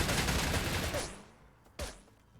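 A burst of RPD machine gun fire in the video game StalCraft, a dense rattling volley that cuts off, followed by one more sharp shot after a short pause.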